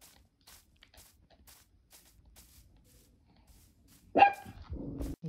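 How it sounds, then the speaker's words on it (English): Barely audible taps before a single dog barks loudly and close, followed by a lower yelping tail. "my dog needs to stop barking in my video."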